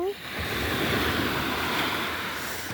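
Sea waves wash onto Chavakkad beach early in the morning, a loud continuous surf roar with wind buffeting close to the microphone and a brief voice at the very start.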